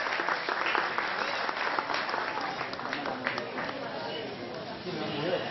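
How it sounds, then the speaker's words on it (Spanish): Steady crowd applause fills a 2013 graduation ceremony at Complejo Las Isletas school, dense and continuous throughout, with voices and cheering mixed into the clapping. "¡Fuerte los aplausos para Dominguita,"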